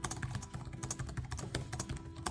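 Rapid typing clatters on the translucent-keyed Asus ROG Strix G16 gaming laptop keyboard, a dense, even stream of close tactile keystrokes with long key travel and no voices.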